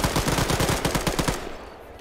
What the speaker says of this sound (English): He just started blind firing.